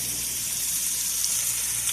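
Water gushes steadily from a tap for about two seconds while 6 cups are filled for a homemade beef stew, a continuous hiss with no talking.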